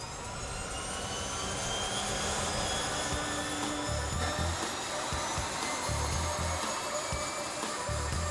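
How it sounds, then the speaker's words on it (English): The radial engine of a De Havilland Beaver seaplane, run for the first time in decades, gives a steady, rumbling roar with a throbbing low pulse that holds throughout at fairly close range. "It's nice to hear that sound of that engine running"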